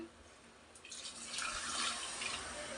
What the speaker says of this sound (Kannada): ಅದಕ್ಕೆ ನೀರು ಹಾಕಬೇಕು.